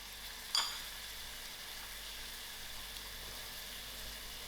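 Ginger and garlic hit hot cooking oil with a brief sharp crackle, then settle into a soft, steady sizzle that carries on faintly and evenly, with no voices.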